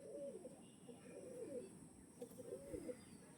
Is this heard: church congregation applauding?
no